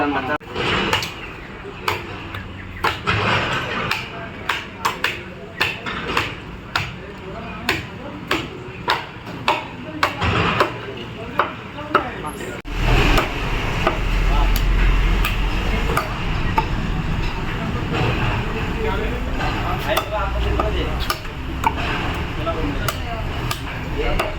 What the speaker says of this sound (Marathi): एक नंबर डोका तोडतो आता. चला, डोका तोडून देऊ.